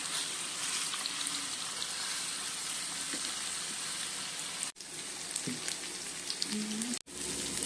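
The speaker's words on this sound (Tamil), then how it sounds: "பேன் ஹீட் ஆயிடுச்சு, ஃபிஷ் பீஸஸை போட்டுக்கலாம்." Fish pieces frying in a hot pan give a continuous, fairly soft crackling sizzle with scattered pops, close by and steady throughout, broken by two very brief dropouts, with no speech.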